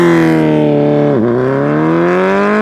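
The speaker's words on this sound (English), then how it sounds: "Let's get a sound clip of the K5 Gixxer Thou." A Suzuki K5 GSX-R1000 motorcycle's inline engine holds a loud, close, buzzing note, dips sharply for a moment, then climbs steadily again as it revs.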